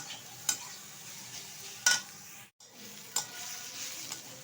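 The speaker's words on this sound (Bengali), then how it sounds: "বাঁধাকপিটা কিন্তু প্রায় ভাজা হয়ে এসেছে" Shredded cabbage frying in a pan for a vegetarian dish, a low steady sizzle punctuated by a few sharp clinks and scrapes of the spatula being stirred through, no voices present.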